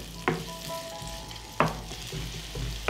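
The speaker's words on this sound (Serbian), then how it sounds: "pržit ću dok luk ne omekša" Onion and garlic frying in olive oil in a heated pan, a steady close sizzle with a few sharp clacks of a utensil stirring against the pan, no voices.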